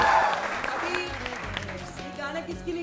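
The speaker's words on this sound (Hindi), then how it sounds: "तालियां भाई" Studio audience applause on a television morning show, a dense clapping wash that starts strong and gradually thins, with talking and musical tones layered over it.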